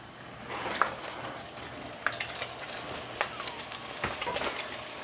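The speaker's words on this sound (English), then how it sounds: "Bacon's starting." Bacon frying in a pan makes a steady soft crackle, broken by sharp scattered pops and spits. It is close and moderately loud, with no voices.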